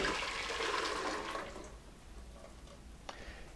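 Creamy yogurt pumpkin soup pours and splashes back into a pot, a close liquid gush that tapers off after about a second and a half into soft drips and a light clink.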